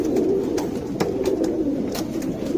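A pair of Sabja pigeons, a male and a female, coo in low, rolling phrases close by, with soft wing or foot rustles and a few brief clicks mixed in.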